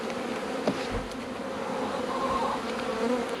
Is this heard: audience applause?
no